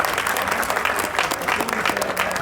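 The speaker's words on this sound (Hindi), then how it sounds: "अभी हमारे दिल्ली के मंत्री मनजिंदर सिरसा जी, जोरदार तालियों से उनका भी स्वागत हो।" Steady applause from a crowd at a political stage event in Delhi welcoming a minister, continuous and fairly close, with a faint voice or tone under the clapping.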